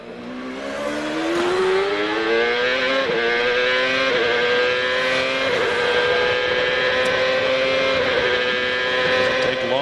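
A 2002 CART Champ Car with roughly 850 horsepower screams up through the gears at Laguna Seca, loud and close, its rising engine whine stepping down at each quick upshift, with crowd or track noise underneath.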